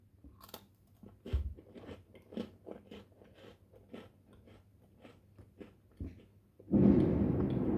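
Someone bites into and chews a slightly thick Parle G biscuit, giving a series of crisp crunches in an uneven rhythm, close and fairly quiet, ending in a louder, dense burst of crunching.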